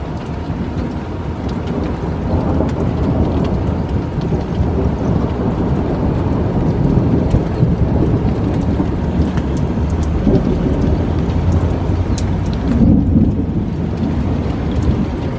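A severe thunderstorm pours steady heavy rain, with low rolling thunder rumbling beneath the constant hiss of the downpour for the whole stretch.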